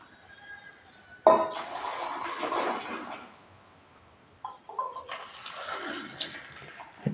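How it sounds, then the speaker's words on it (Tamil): Tea being strained and poured into cups in a home kitchen, two splashing liquid passages with a gentle trickle between them, fairly close and moderately loud. "டீ வடிக்கிட்டு இருக்கு."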